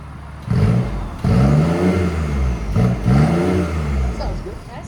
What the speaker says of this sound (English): Yes, we got some revs out of it.